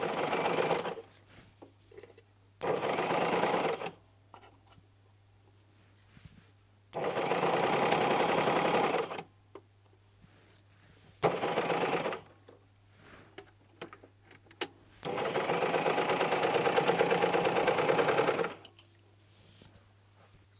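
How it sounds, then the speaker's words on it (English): A sewing machine stitching the short ends of fabric for a Freya top neck piece runs in four separate bursts, each a steady whirring stretch of one to three seconds, with quiet pauses between them. "we're just going to sew the short end"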